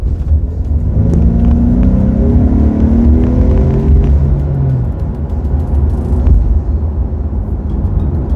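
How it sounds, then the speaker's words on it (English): Turbocharged four-cylinder engine of a Ford Explorer Timberline accelerating, a loud steady rumbling drone with rising whirring pitch sweeps over the first few seconds, then holding as a continuous close engine hum to the end. "Good sounding motor, doesn't sound bad. It sounds very good for a 4-cylinder."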